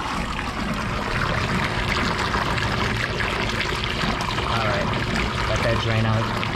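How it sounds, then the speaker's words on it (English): Hot water pours steadily from the drain of a commercial steam boiler, a continuous rushing splash that lasts the whole stretch, with someone talking over it. "What I want to do is drain this thing."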